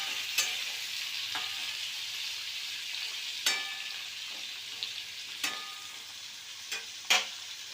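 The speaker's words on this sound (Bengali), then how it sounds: "এরপরে মোটা মোটা করে কেটে রাখা পেঁয়াজটাও দিয়ে দিলাম আলুর মধ্যে" Potatoes and thickly chopped onions fry steadily in a pan, a continuous sizzle broken by several sharp scraping stirs spread through the clip, with no talking.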